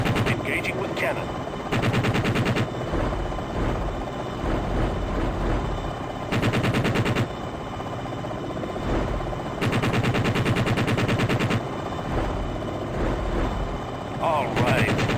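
Repeated loud bursts of helicopter cannon fire in the Jane's Longbow game, several long rattling volleys spaced over a constant rotor hum, with brief game chatter between them.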